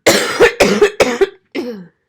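A person coughs four times in quick succession, harsh and close, the last cough slightly separated and rougher.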